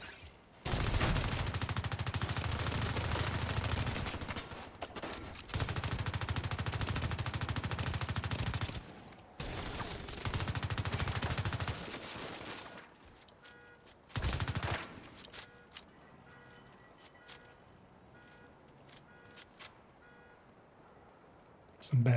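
Bursts of automatic gunfire rattle loudly during a video game shootout, several long sustained volleys separated by short pauses, then tapering off into quieter scattered sounds and faint background noise.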